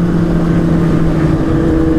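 Superbikes roar past on a road during a group ride in Kolkata, their engines a loud, steady, droning rev that holds at full strength throughout without any break.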